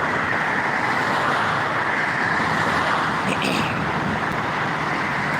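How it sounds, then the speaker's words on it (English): Steady road traffic rushes past outdoors, a dense continuous roar of cars and other vehicles with no gaps, loud and close throughout. "There's a lot of traffic out here."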